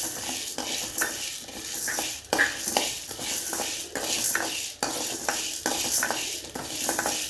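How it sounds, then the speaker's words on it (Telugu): Urad dal is fried on a low flame and stirred in a pan, making a crackling sizzle broken by regular scraping strokes and occasional light metallic taps, close and fairly loud. "సిమ్లో పెట్టి వేయించుకోవాలండి. ఇందులో మినపప్పు వేసుకోవాలండి."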